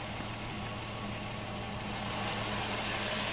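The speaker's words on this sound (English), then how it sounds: "Now we'll hook up the ARB compressor." An ARB portable air compressor runs steadily with a constant motorized drone and hum, close and loud throughout, filling a vehicle tire after it was let down to about 10 psi for the trail.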